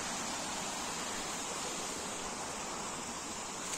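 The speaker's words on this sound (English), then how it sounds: "There's a stream. The water is flowing" A small outdoor stream runs near a little waterfall, giving a steady, even rush of flowing water that holds without change throughout, heard alone with no talking.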